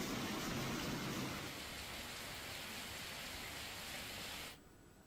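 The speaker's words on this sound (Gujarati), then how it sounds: "રાત્રિ દરમિયાન જ વરસાદ શરૂ થયો અને ઘણા વિસ્તારોમાં તો ધોધવાર સાંભેલાધાર વરસાદ પડ્યો" Dense, steady heavy late-night downpour in Gujarat, India, roars continuously, then drops off abruptly near the end, leaving a much quieter background.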